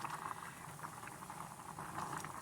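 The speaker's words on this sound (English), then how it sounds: "We've been boiling for a little bit here." Beef stew boiling in a pot, a soft continuous bubbling and popping with small irregular blips, quiet and close with no talking.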